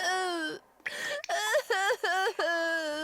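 A child crying in an animated children's story, a drawn-out wailing voice rising and breaking into sobbing bursts with short gaps, close and loud, heard alone.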